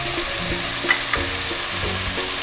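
Spices including garam masala, red chilli flakes and coriander-cumin powder sizzle and fry with shrimp masala in a pan, a steady loud crackle broken by a few sharp scrapes of stirring, with no voices.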